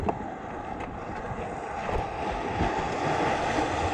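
A fishing boat engine drones steadily with wind and water noise around it, the motor sounding uneven and rough throughout.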